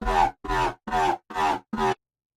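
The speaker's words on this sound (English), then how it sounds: "Now we're starting to get that real dubstep-y full sound here." Five short, gritty, growling dubstep synth bass notes made in Serum hit in a steady pulse and then stop, dense and heavily distorted.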